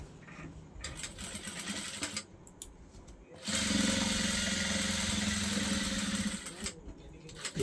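Sewing machine stitching the zipper onto a pair of trousers, running in steady bursts: a shorter stretch of stitching, a pause, then a louder sustained run of several seconds close by.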